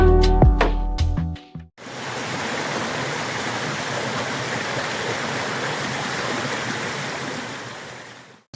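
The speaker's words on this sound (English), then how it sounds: "walking by the Musahonic River, I think it is, and it is flowing after the rain last night" The Musahonic River flows after rain, a steady broad rushing of water that fills the whole stretch evenly, close and constant, after a brief burst of other sound at the start.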